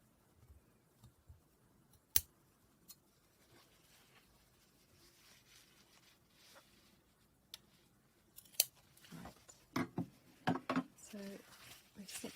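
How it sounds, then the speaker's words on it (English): Scissors snipping fabric while cutting a Sashiko Boro embroidered sewing basket pattern: scattered sharp, quiet snips with pauses between, then a denser cluster of cuts and handling rustle toward the end. "I'm going to snip the other 2 as well, which you can't see."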